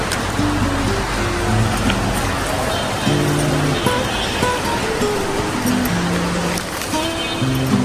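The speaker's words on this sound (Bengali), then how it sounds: "পাশে মেঘ মেঘ মেঘ মেঘ এখন বৃষ্টি হচ্ছে" Rain falling on an overcast morning, a dense steady patter close by with short tonal sounds breaking through intermittently.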